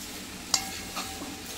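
Grated raw mango and sugar stirred together in a pan for moramba, a soft continuous sizzle with one sharp spoon scrape and a lighter stroke after it.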